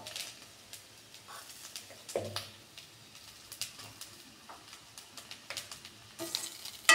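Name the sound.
stirring rice with coconut in a frying pan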